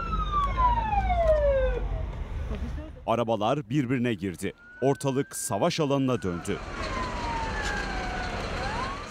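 Emergency vehicle sirens wail at a 12-vehicle chain-reaction pile-up involving a truck and a tractor-trailer on the TEM motorway at Istanbul's Avcılar toll booths, rising and falling loudly at first, then dropping out under a man's speech before returning more distantly amid traffic.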